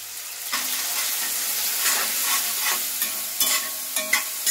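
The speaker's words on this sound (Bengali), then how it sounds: "এই আলুটা ভাজা হতে থাক" Potatoes crackle and sizzle loudly in hot oil, with intermittent scraping and clinking as a utensil stirs the pan.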